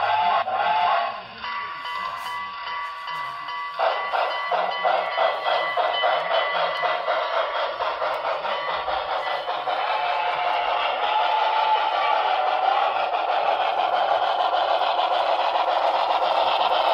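Broadway Limited Imports model train locomotive pulling away, a steady high electronic whine and hum with rhythmic chuffing clicks building in intensity, close and continuous.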